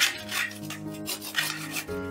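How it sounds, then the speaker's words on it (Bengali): A hand grater shreds boiled potato and pumpkin in a kitchen, producing short rhythmic rasping strokes close by, with no talking. "এবারে একটা গ্রেটারের সাহায্যে এই আলু আর কুমড়োটা আমি গ্রেট করে নেব।"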